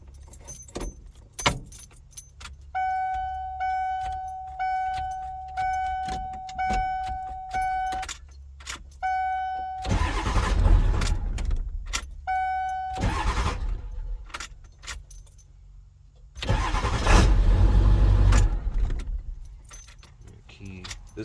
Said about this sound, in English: you should be able to take the key, put it in